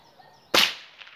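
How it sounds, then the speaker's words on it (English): A single gunshot fired at a target, one sharp, loud crack that decays quickly into a short tail, heard alone against a quiet background. "Let's get a bullet and let's shoot to the target."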